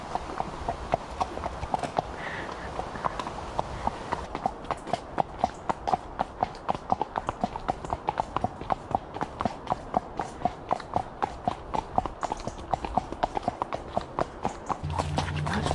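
A horse's hooves clip-clop at a steady, quick walking rhythm during a ride, close and sharp, with many regular beats and a little soft background noise.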